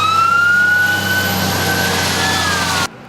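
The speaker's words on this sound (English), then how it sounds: "Paying attention to warning sirens could be a lifesaver this time of year" A loud outdoor warning siren in Grand Prairie, Texas wails steadily with a slowly drifting pitch over traffic rumble, then cuts off abruptly near the end.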